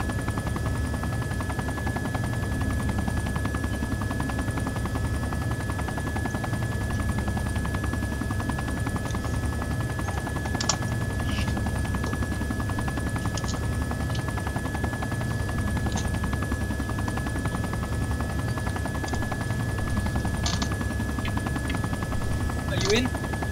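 A steady helicopter rotor drone in the video game ARMA 2 fills the scene with sharp intermittent clicks and bursts, while voices talk over it.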